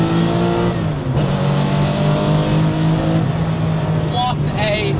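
A loud Gunther Werks Porsche 993 911 restomod engine revs high and sustained to almost 8,000 RPM, pitch climbing then dropping through a gear change, with a brief squeal near the end.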